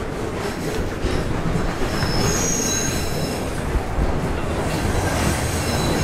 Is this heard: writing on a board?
no